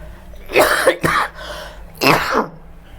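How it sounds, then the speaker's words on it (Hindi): A person coughs in a few harsh, close bursts: a pair of quick coughs, a pause, then another cough. "ये बार बार खांसी क्यों आ रहा है भाई?"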